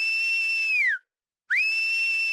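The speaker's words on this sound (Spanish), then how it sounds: "pudo ver que los bashkirios lo animaban con silbidos." Two long, shrill whistles, each held steady before sliding down to a stop, separated by a brief silence, then rising back up.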